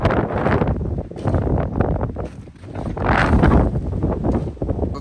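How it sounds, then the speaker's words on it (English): Strong wind on a Nevada trail, gusting to about 39 mph, buffets the microphone in broad, roaring gusts that swell and ease, loudest around the middle, with no talking. "And the wind seems to be picking up."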